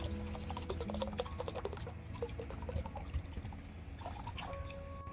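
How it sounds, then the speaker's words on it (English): Liquid EM1 solution pours into a bucket of dissolved jaggery water, a steady trickle with drips and light splashes that stay fairly close and continue alone for about five seconds. "Add 1 liter EM1 solution into the bucket."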